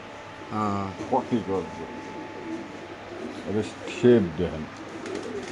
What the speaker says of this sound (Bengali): ধরবো এগুলো যার নাম রেসার কবুতর